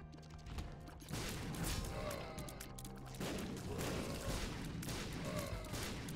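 Rapid bursts of bomb explosions in the modded video game The Binding of Isaac Repentance. They pop in dense, overlapping volleys over constant game sound and music, loud and chaotic throughout.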